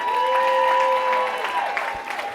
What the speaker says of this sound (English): one more round of applause for our mayor, Michael Bivens.